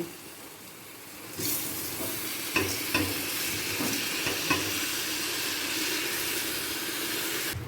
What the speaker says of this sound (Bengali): এরপর দিয়ে দেব ভিজিয়ে রাখা ডাল